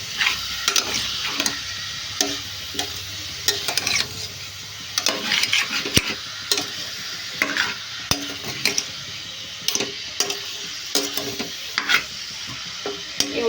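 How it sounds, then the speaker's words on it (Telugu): Onions frying in a pan with carrots, with a continuous sizzle broken by frequent rhythmic stirring scrapes and spoon knocks against the pan, close and fairly loud. "ఉల్లిపాయలు అనేది ఫ్రై చేసుకోవాలండి"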